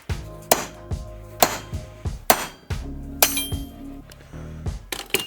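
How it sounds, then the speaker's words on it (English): Sharp metal hammer blows strike a cast metal piece on a Jeep YJ front bumper mount, about a dozen ringing clanks in an uneven rhythm, close and loud with short metallic rattles between hits. "I thought about just trying to frickin' hammer it"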